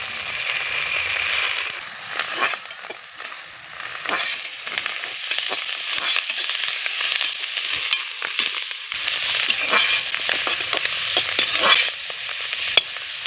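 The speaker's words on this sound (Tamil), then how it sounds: "இந்த வெங்காயத்தோடு போட்டு வதக்கிக்கலாம்." Manathakkali greens and golden onions sauté in a pan with a lively continuous sizzle and crackle, punctuated by frequent close scraping stirs, fairly loud and steady with no voices.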